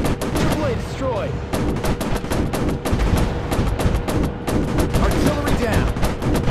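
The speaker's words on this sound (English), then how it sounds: "I have to shoot shorter bursts. Overheating machine guns." F7F Tigercat machine guns in War Planes WW II firing dense rapid bursts, a continuous rattling stream of sharp shots close and loud, with overheating guns forcing shorter bursts.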